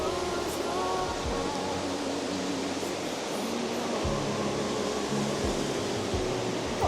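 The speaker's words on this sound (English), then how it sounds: "Just spotted a nice little waterfall there." A small roadside waterfall on a quiet rural road in remote Spain, heard as steady broadband rushing water that fills the whole stretch, close and constant with a low rumble underneath and no talking.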